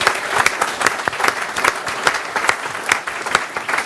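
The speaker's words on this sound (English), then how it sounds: "I think a round of applause for our candidates." Crowd applause for the candidates at an Auckland Central electorate debate, dense rapid clapping from a room full of people, loud and steady for a few seconds with no voice over it.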